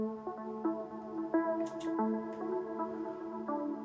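A solo melodic synth line from FL Studio's Flex plugin for an afro house track, with soft plucky notes in a steady rhythm at low volume and a few faint airy hits in the middle.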